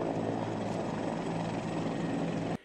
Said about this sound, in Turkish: Helikopter önce anne kızın bulunduğu kabine yanaştı.